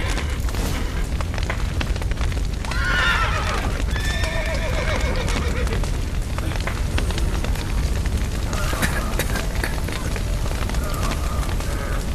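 Horses neigh and whinny loudly several times amid clattering hooves and a crackling fire, with shouting voices mixed in, in the video game The Witcher 3: Wild Hunt.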